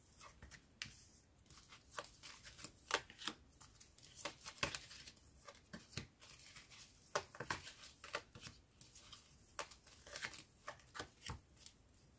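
Tarot cards being shuffled by hand, a dense run of crisp riffling flicks and soft slaps in irregular bursts, close and fairly quiet, with no talking.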